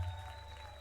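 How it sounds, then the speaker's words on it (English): A faint, steady wash of audience cheering and applause from the Snoot Game visual novel, a continuous crowd roar running unbroken under a low electrical hum. "Behind me, I can hear the audience cheers grow louder."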